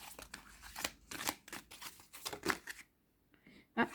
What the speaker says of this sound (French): Il y en a qui n'aiment pas revoir battre les cartes.